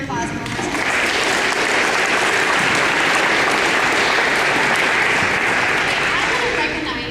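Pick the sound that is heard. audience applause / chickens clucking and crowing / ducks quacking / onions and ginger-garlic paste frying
audience applause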